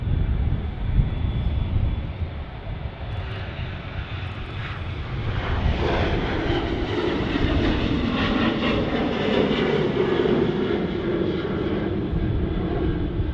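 Airbus A380 landing at Manchester Airport with only the inboard thrust reversers deployed, a loud, sustained jet roar that swells as the reversers engage and stays steady throughout.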